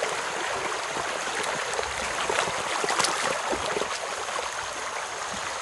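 River flowing steadily with a continuous rushing, trickling wash of water, close and even throughout.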